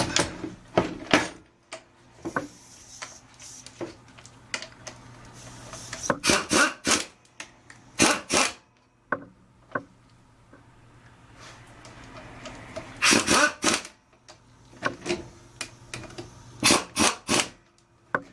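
Parts on a hydraulic floor jack being tightened by hand during a rebuild, heard as scattered close clicks, scrapes and rubbing metal-on-metal handling sounds in irregular bursts.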